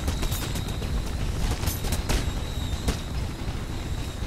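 Enemy gunfire in the Mirror's Edge video game crackles in rapid bursts of sharp shots, loud and dense across the whole stretch with no speech.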